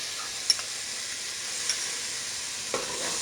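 Butter sizzles in hot ghee with chicken in a cooking pot, a steady close hiss of frying with a few faint clinks of stirring.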